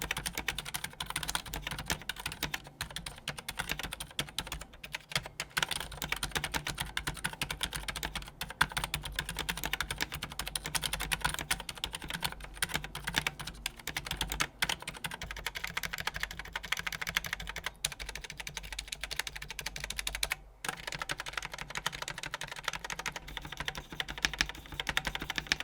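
Continuous typing on a One Of Zero Iodine mechanical keyboard with factory-lubed switches and Ducky stabilizers, a steady stream of soft, close keystrokes with brief pauses and no talking.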